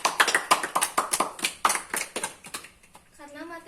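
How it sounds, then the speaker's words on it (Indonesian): A short burst of hand claps from a small group in a physics classroom, sharp and uneven for a few seconds, fading out as a voice begins. "Tepuk tangan sekali lagi."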